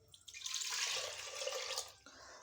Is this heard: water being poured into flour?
yes